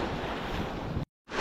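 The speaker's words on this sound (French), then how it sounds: "Il y a du vent." Steady, roaring wind buffets the microphone out on open saltwater fishing flats, with a broad noisy rush that cuts out abruptly near the end and then returns.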